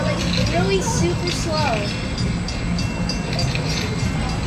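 A slow work train rumbles past with rail clatter and squealing tones; muffled voices can be heard in the background.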